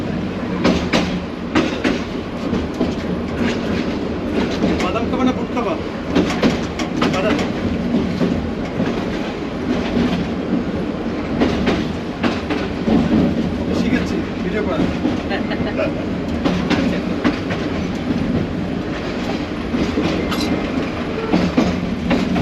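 A local passenger train on the Dhaka to Narayanganj line rumbles and clatters steadily throughout, wheels clicking over rail joints with constant carriage noise, and voices murmuring inside the car.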